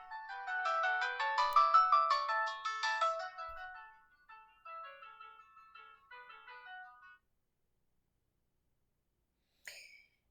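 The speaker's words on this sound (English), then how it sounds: "That's my partner ringing now." A phone ringtone plays a melodic electronic tune for several seconds, then stops; a brief faint noise follows near the end.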